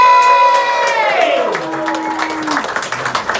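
A comedy club audience cheers and applauds, with voices whooping and a long falling shout at the start, followed by scattered clapping and crowd noise.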